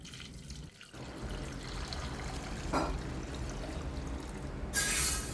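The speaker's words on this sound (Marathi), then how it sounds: "इथे मी कुकरमध्ये 3 बटाटे घेतलेले आहे आणि त्यात पाणी टाकून" Water poured into a pressure cooker holding three potatoes, a steady splashing pour running nearly throughout at moderate level, with a brighter burst toward the end.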